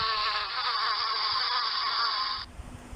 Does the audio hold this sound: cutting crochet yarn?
no